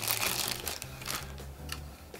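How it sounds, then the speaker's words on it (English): A small plastic bag holding a three-button garage door opener remote crinkles and rustles up close in a quiet room, with irregular crackling bursts and a low hum beneath. "It comes in a little plastic bag."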